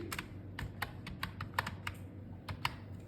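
Fingers type on a computer keyboard while entering text in Microsoft Word, a quick irregular run of crisp, close key clicks with a few louder strokes, no talking.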